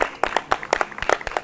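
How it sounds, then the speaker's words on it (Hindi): An audience at a yoga session claps for a woman holding a headstand, producing a brisk, uneven patter of many hands at close to moderate distance. "बड़ी जोरदार माता है, तालियां बजाओ भाई।"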